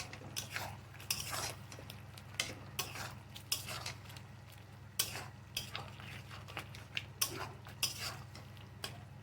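A spoon stirs mustard paste into a bean curry in a pot, giving repeated scraping clinks against the metal at an uneven rhythm over a soft, steady sizzle.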